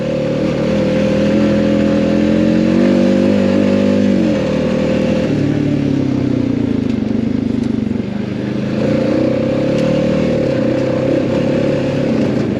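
Jeep Rubicon engine running with a K&N air filter, a loud steady idle that is revved up and settles back down several times, close to the microphone with no talk.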